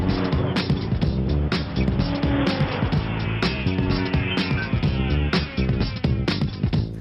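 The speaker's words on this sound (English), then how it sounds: "Let's take a run in the 2013 Audi S6 and check the tech" A 2013 Audi S6 drives under steady engine drone with broadband road and tyre noise, loud and close throughout, with repeated sharp transient clicks and thumps scattered over the run.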